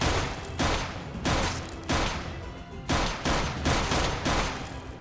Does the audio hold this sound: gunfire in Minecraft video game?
yes